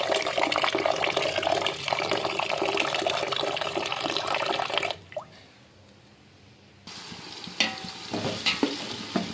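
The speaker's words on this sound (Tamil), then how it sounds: "இப்போது நம்ம கொஞ்சமாக தண்ணி ஆட் பண்ணிவிட்டு ஊற வச்சிடலாம்" Water splashes and pours steadily into a pot of seeraga samba rice, a continuous rushing sound that stops briefly, then resumes with clinks and scraping.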